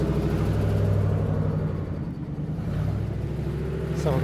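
A car in poor shape with a low tire backs up, its engine giving a steady low rumble that holds throughout at close range.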